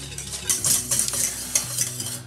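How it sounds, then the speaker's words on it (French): Lemon curd being stirred in a pan as it heats, a steady scraping and swishing of a utensil against the pan with a soft sizzle beneath, close and continuous without talk. "Je ne cesse pas de remuer pendant que je réchauffe mon curd."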